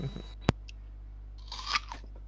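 Someone bites into an apple with a sharp crisp snap, then chews with a few wet crunches, close to the ear over a constant low electrical hum.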